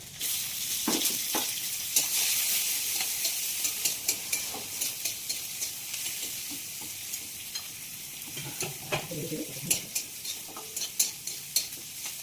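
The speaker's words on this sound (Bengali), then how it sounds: "এবার দিয়ে দেবো রসুন, এটা দিয়ে দেবো পেঁয়াজ।" Garlic and onion frying in a pan after whole cumin, a constant close sizzle broken by a series of scraping stirs that grow more regular and rhythmic toward the end.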